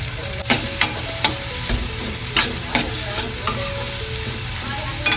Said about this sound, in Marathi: तर कांदा टमाटर ना आपला चांगला परतून झालेला आहे